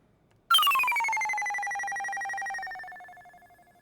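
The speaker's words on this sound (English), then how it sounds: "What does a UFO sound like?" Korg DS-10 synthesizer on a Nintendo DS producing a UFO-style effect: a single sudden tone that starts high and glides downward in pitch, then holds a wavering note that slowly fades out, with no talking.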